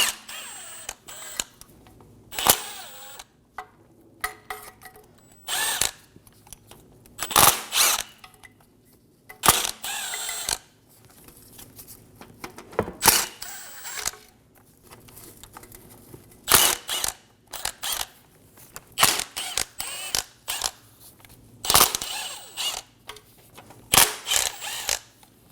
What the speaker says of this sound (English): Using a 10mm socket, we're going to go around and remove all of the nuts and bolts for the oil pan.